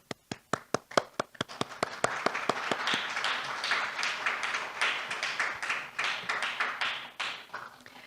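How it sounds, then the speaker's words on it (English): An audience applauds at the close of a forum's final session, starting as a few sharp separate claps that quickly swell into dense, sustained clapping from many hands, fairly close and filling the room, with no speech over it. "A big round of applause."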